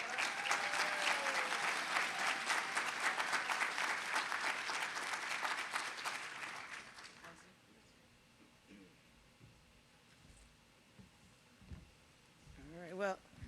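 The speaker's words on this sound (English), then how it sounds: "So, another big round of applause for Diana." Audience applause at an awards ceremony fills the first half, loud sustained clapping from a crowd that fades out, leaving quiet room noise with faint voices and small movements.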